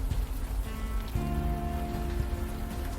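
Rain falling in the game Unavowed, a steady pattering wash that runs continuously, with a low sustained musical hum layered underneath and no speech over it.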